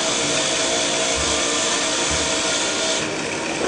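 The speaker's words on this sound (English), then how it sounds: "take a wire wheel, standard bench grinder," A standard bench grinder spins a wire wheel against a soldering iron tip to clean off buildup, producing a constant loud broadband whir and hiss that holds steady throughout, with no voices.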